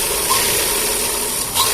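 A sewing machine stitches a trouser belt, running as a steady mechanical whir with a faint ratcheting texture, close and continuous, with no voices.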